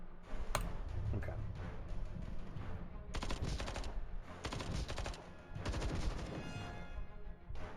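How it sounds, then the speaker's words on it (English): Turrets in the game Templar Battleforce fire in rapid bursts, a dense clattering rattle that cuts in and out in several stretches of about a second or more, with quieter ticking between bursts. "These turrets aren't as good as they used to be."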